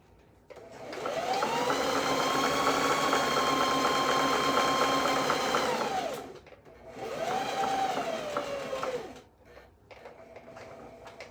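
Sewing machine stitching fabric for a dress, a close, steady whirring run of several seconds, a brief stop, then a shorter second run before quiet.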